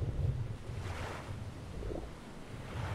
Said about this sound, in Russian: Прям можно вот тут остановиться и отдохнуть, подумать, послушать волны.